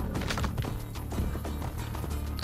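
Horse galloping in Assassin's Creed Brotherhood, with steady clip-clop hoofbeats running continuously and fairly loud over a dense game soundtrack.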